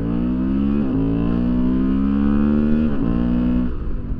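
A Honda Transalp adventure motorcycle accelerates through the gears, a loud close engine drone rising in pitch with two brief dips at the shifts before climbing again, no talk.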